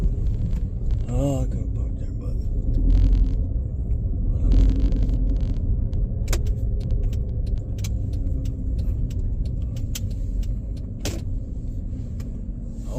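A car travels fast along a road, a constant low rumble of engine and tyre noise from inside the cabin, with a person talking over it and some scattered clicks.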